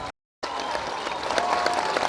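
Crowd applause at the launch of the Sauti Kuu Centre, with a sustained wash of many hands clapping right after a short silent gap, steady and fairly loud.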